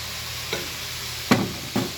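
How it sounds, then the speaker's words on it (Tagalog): Mung beans being sautéed in a pan, a low steady sizzle broken by three short scraping stirs, the last two louder, close by, with no talking. "igigisa natin dito ang munggo"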